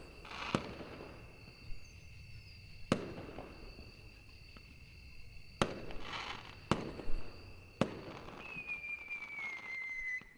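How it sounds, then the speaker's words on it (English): Firework rockets explode in the video game Angels with Scaly Wings: several sharp, loud bangs come at irregular intervals, with whistling streaks and crackle between them over a quiet background. "More rockets followed, their thunderous noise echoed throughout the land."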